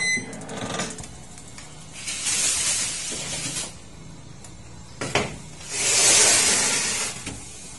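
Sundanese bakakak chicken grilling at about 175 degrees, giving off several loud bursts of steamy hissing sizzle that swell and fade between quieter stretches.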